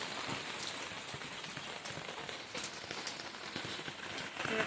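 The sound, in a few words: rain falling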